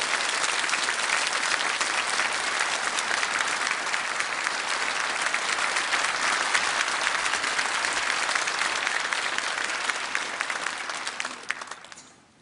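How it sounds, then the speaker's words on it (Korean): A Korean church congregation claps long and loud as a pastor comes forward, a dense, even wall of applause that holds steady before tapering off quickly at the end. "나오실 때 큰 박수로 예 하나님께 감사를 드리시겠습니다."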